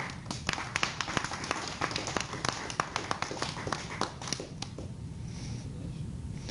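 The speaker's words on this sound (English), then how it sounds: "Let's give Karina a round of applause" Applause at a society business meeting after a motion passes, greeting a newly elected president named Karina: a room of hands clapping in dense, irregular bursts that thin out and fade toward the end.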